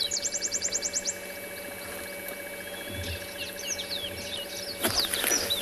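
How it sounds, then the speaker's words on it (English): A bird calls in the South African bush on a morning safari: a quick series of high chirps at the start, then scattered twittering notes over a constant insect drone. "the bird I wanted to show you, I can hear it calling"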